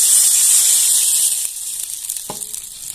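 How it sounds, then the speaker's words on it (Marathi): Hot oil tempered with mustard seeds, green chillies and curry leaves hisses loudly as a glass of water goes in for dhokla, a bright sizzle that fades after a second into softer bubbling, with no talk. "एक ग्लास पाणी घालून घ्यायचं"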